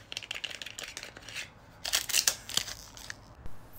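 Packaging for Uvinion mascara being opened by hand: close, quiet crinkling and snipping rustles in short bursts, a sharper cluster of crackles toward the middle, no talking.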